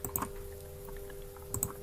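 Computer keyboard typing while preparing online quiz questions, a few scattered key clicks near the start and a brief cluster near the end over a steady electrical hum, no talking.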